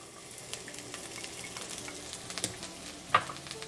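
Onions sizzling in vegetable oil in a pot, a faint steady frying crackle with scattered pops and a sharper tick near the end.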